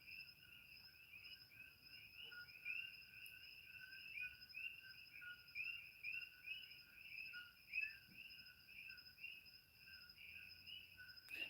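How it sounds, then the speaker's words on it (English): Coqui frogs call at night in Hawaii, a faint, continuous chorus of repeated high chirps overlapping in a steady rhythm against a quiet background. "the Koki has one of the highest decibel chirps of most all frogs"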